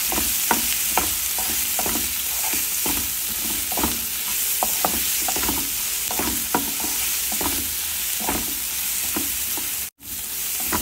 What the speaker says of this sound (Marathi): 1 छोटा कांदा घालायचा आहे, अर्धा चमचा मीठ घालूया आणि आपण परतून घेऊया छानपैकी